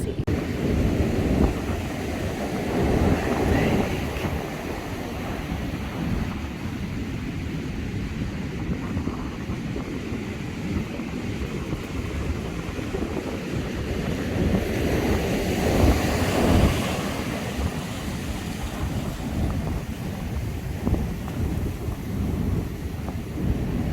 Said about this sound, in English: I'm standing right at the edge of the beach, and you could see that the water has just come up here